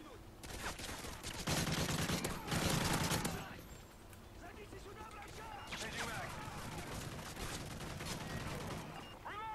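Rapid gunfire in a survival video game, with dense bursts of shots that are loudest around two to three seconds, then continuing shooting and impacts over a steady game background.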